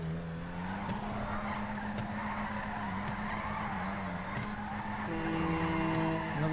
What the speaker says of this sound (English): It's more of a power slide than a drift